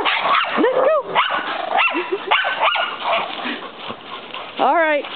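A dog barks, yips and whimpers up close in a run of short rising cries and sharp barks, with a long whining yelp near the end.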